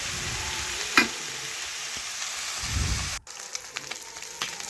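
Thin fish pieces fry in oil in a wok over low gas flame, a continuous close sizzle with a clatter and a brief stirring scrape midway, then a quieter crackle after a short break.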